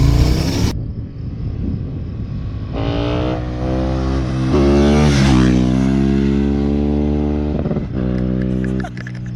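A KTM 1190 Adventure motorcycle carrying two riders accelerates hard, its engine climbing through loud rising revs with gear changes, close and continuous over wind noise.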